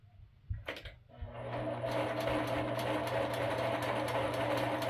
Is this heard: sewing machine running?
yes